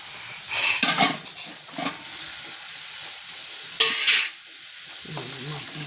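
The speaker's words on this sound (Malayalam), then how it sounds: "നന്നായിട്ട് ഇളക്കി കൊടുക്കുക" Stirring ginger garlic paste, green chillies and curry leaves in a hot pan, a steady sizzle and hiss with a few scraping stir strokes, close and moderately loud with no talk.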